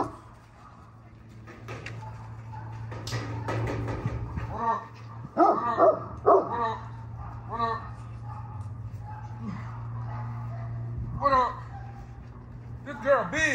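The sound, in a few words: dogs barking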